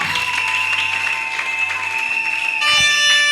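A church congregation applauds in praise during a worship service, steady dense clapping throughout with a sustained musical tone underneath that swells louder near the end.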